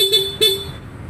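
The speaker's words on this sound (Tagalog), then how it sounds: "Push button, yung busina." Horn of a 2024 Honda Click 160 keyless scooter: two short, loud, close honks in quick succession, the second held a little longer, with no talk.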